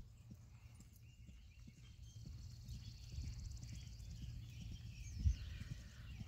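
Hooves of a horse at an extended lope in a riding arena, a steady rhythmic low thudding that builds gradually, fairly faint, with one sharper, louder hit near the end.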